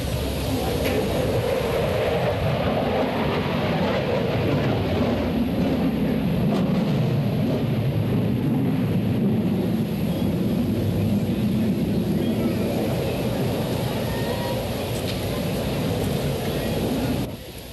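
An F-14 Tomcat jet at the 1987 Moffett Airshow roars steadily and loudly as it passes, a continuous broadband engine rumble that holds for the whole stretch before easing slightly at the end.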